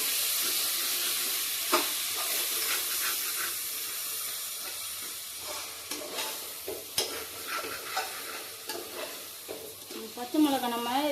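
Tomatoes stirred into a frying pan for chicken biryani sizzle steadily while a spoon scrapes and clinks in irregular strokes, close and fairly loud, with steam hissing throughout.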